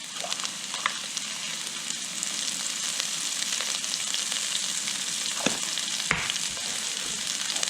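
Onions sizzle and crackle in a hot pan after a pinch of salt, a steady close frying hiss with occasional sharp scrapes of stirring, no talking.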